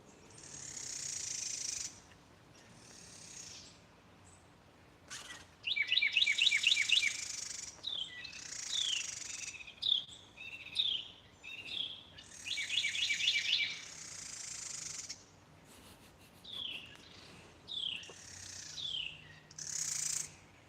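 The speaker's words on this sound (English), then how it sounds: "That Carolina wren was right next to me. It's so loud it couldn't hear the other birds." A Carolina wren sings loud, repeated rapid trills very close by, alternating with sparrows' shorter chirps and tweets through a busy outdoor chorus with no talking.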